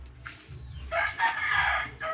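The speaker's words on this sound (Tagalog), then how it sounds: "Mga manok ng garaan" Rooster crowing loudly and close among clucking farmyard chickens on a pig-raising farm, one long crow rising over a low background hum.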